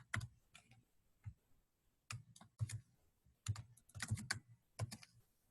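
Fingers tap out code on a computer keyboard in quick clustered bursts of sharp, close clicks, separated by short pauses, in a quiet room.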